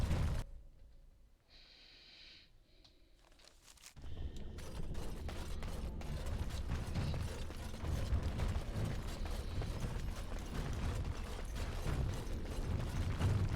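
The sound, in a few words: door mechanism opening in Dragon Age Origins video game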